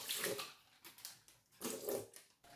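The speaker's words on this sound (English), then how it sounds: "I just filled it with water, like so." Water pours and splashes into a cheap Ziploc bag of fermenting cabbage in short uneven gushes, close and fairly quiet.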